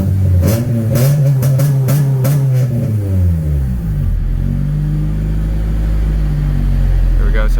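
Engine of a 1990 Honda CRX revving up to about 3,900 RPM, a loud, close rising and falling drone that then settles into a steady high hum.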